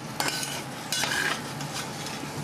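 Eggs frying in a hot pan on high heat, stirred with a utensil: soft scraping strokes and light clinks over a continuous faint sizzle, close up and without speech.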